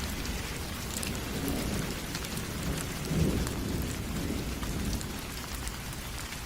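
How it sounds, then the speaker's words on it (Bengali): Dense, steady downpour hissing on surfaces, with a low rumble of thunder swelling briefly in the middle; no voices. "মুষলধারে বৃষ্টি শুরু হয়"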